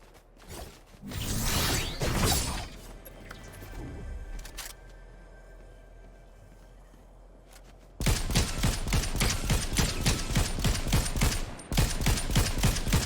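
Gunfire from other players fighting in Fortnite: first a few scattered shots and mechanical clatter, then a lull, followed by sustained rapid bursts of automatic fire, loud and close.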